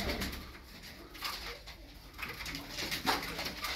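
Tumbler pigeons coo softly and repeatedly, close by, against a faint breathy room hiss.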